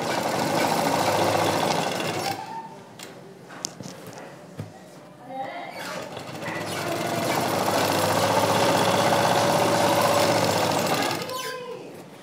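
A sewing machine runs in steady rhythmic bursts, stitching a folded-in belt on a readymade lehenga, with a pause in the middle before the machine resumes at length.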